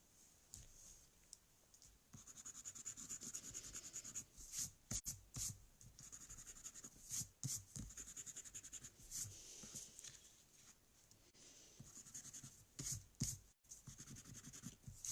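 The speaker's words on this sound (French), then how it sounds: "maintenant on va gommer tout ce qui gêne" Pencil marks being rubbed away with an eraser on a pop-up card, a soft, steady scrubbing and rubbing in close, quiet bursts with short pauses between strokes.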